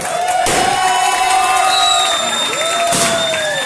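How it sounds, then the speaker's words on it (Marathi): A crowd cheers loudly at a trophy unveiling during a league cricket auction day, a dense continuous roar with shrill whistles rising and falling throughout. "तर सर्वांनी जरा याच्यासाठी टाळ्या द्यायच्या आहेत."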